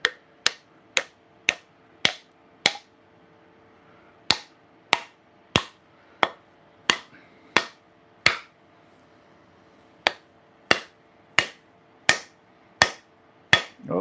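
A hammer taps a wedge into a knife handle, a series of about twenty sharp, evenly spaced knocks in clusters with short pauses, loud and close with no talk.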